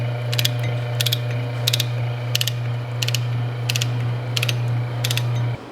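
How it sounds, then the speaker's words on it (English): Shaper's ratcheting feed mechanism clicks in eight evenly spaced bursts, roughly one every 0.7 seconds, each a sharp metallic ratchet over a steady low motor hum that runs throughout. "And it feeds like the old Shaper does with the ratcheting feed."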